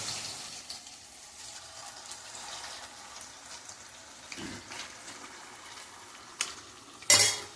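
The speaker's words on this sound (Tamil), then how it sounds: "எண்ணெய் நல்லா வந்து கொதிக்க ஆரம்பிச்சிருச்சு" Hot oil sizzles and bubbles steadily in a pan, heating for frying masala 65, with occasional clinks and a louder stirring scrape near the end.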